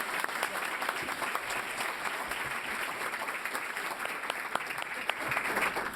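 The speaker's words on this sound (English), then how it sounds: "Let's give him a warm round of applause as well." An audience applauds at a Columbus City Schools event, welcoming the host, the Columbus Dispatch editor. The clapping is dense and sustained from many hands, steady throughout with no voices.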